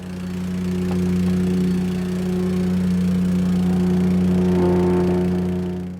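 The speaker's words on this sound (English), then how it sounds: "I'm going to hit it with the whacker" Plate compactor working over paving sand: a loud, steady mid-pitched engine drone with a constant vibrating hum, close by and continuous throughout, with a slight rise in intensity toward the end and no voices.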